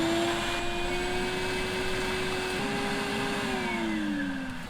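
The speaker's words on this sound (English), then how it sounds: "got my big shop vac here, because I'm having trouble getting that last bit of dirt out of the bottom of the hole" A big shop vac sucks dirt from the bottom of a post hole, a loud continuous whine with a steady motor tone that shifts pitch slightly as debris passes, running throughout and easing off at the end.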